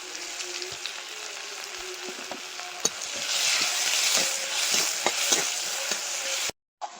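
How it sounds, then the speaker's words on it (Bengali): Bay leaves, five-spice seeds and crushed garlic sizzle loudly in hot oil, a dense steady frying hiss with crackles and a few stirring knocks, close up and alone before cutting off near the end. "তেলের মধ্যে তেজপাতা আর পাঁচ ফোড়ন দিয়ে দেবো।"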